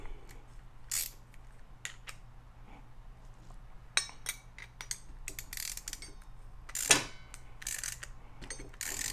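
A ratchet tightens a nylon lock nut on an exhaust tailpipe clamp during a Hooker Blackheart rear-exit dual tailpipe install on a G-body car, giving close, quick bursts of clicking with brief metallic knocks in between.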